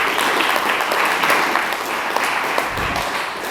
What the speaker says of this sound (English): a big round of applause for Marc and Manel